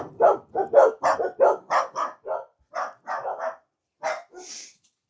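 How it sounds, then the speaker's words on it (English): Dogs bark close and loud in a rapid run of about a dozen sharp woofs, pausing briefly before a few final barks and a higher yip. "I think the neighbors are antagonizing the dogs."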